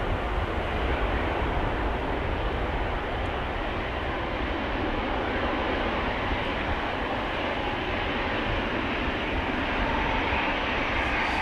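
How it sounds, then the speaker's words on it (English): A KLM Boeing 777-200 departing Amsterdam Schiphol, its jet engines producing a heavy, continuous low roar that stays loud and steady throughout, heard without any talking. "That's KLM Flight 605 to Rio de Janeiro, a 777-200"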